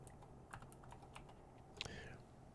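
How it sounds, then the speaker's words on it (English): Quick, uneven bursts of clicking keys on a computer keyboard, fairly close and quiet, with a sharp louder knock at the very end. "Now, what the heck kind of typing are you doing, Doc?"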